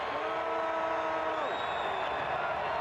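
Football stadium crowd cheering at a 2017 Hawaii at Wyoming college game: a steady, dense roar from the stands under a commentator's voice, which drops away partway through.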